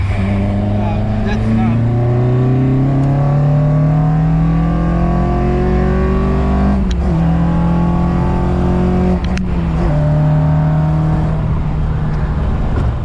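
A 1982 Toyota Corolla GT AE86 with a Beams engine on individual throttle bodies accelerating hard through several gears, a loud, rising engine note broken by brief dips at each shift, with some talk over it.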